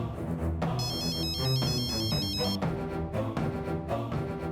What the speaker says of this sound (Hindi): फोन क्यों नहीं उठा रही है?